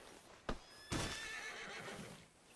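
A horse in Red Dead Redemption 2 lets out a loud whinny after a short snort, set against a steady outdoor game ambience with faint hoof movement.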